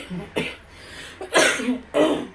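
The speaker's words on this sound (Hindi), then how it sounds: "खांसी हो रही है मुझे ना" Several harsh coughs in quick succession, close and loud, with short breaths between them.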